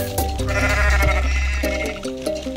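A goat bleats in the video game Goat Simulator: one loud, sustained, wavering bleat, close and continuous over a low background hum, with no talking.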